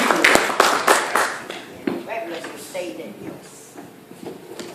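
A church congregation claps at a worship service, a burst of loud sharp claps that thins and fades over a few seconds while voices talk over it.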